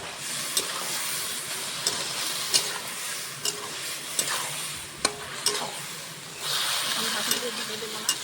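Small fish fry in an uncovered pan for a Bengali recipe, a continuous close sizzle broken by repeated sharp scrapes and knocks of a spoon stirring against the pan, at a steady irregular pace.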